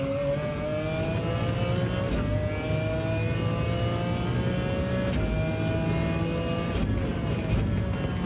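Race car engine in Gran Turismo 7 at Spa, revving hard with rising harmonics and quick upshifts dropping the pitch about every couple of seconds, loud and continuous throughout with no talking.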